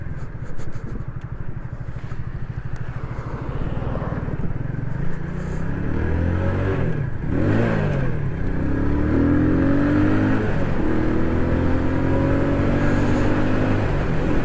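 A tuned Romet WS50 49cc moped rides onto an asphalt road on a wet day, its small engine droning steadily and rising in revs, loud and close throughout with a brief pitch swoop midway.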